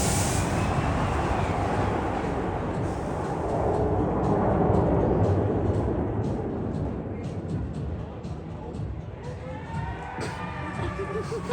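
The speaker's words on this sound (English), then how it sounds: "They did get it back open, watching all the trains with everybody." Kingda Ka roller coaster trains run at Six Flags Great Adventure, heard as a continuous loud rushing rumble with crowd murmur throughout, plus a rising whine near the end.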